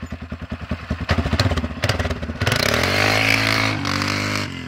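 Yamaha quad ATV engine sputtering in rapid pulses, then revving hard into a loud sustained high drone up close, in low gear with the front end lifting.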